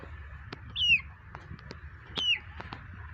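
Sick village chickens on a farm, faint soft clucks and short squawks repeating twice over a quiet, low background.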